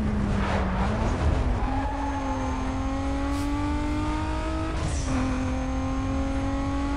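A Toyota Supra racing engine in Need for Speed: Most Wanted (2005) drones continuously, its pitch rising through gear changes with brief drops between, loud and close throughout.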